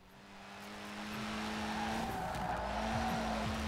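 A Lotus Cortina races in Forza Horizon 4's winter festival, its engine droning at a steady pitch that swells louder and holds, with some tire noise mixed in toward the end.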